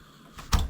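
The plastic tailgate of a Boom Racing BRX02 toy RC car swings shut with a single brief, soft click-thud, close and alone against a faint background hiss.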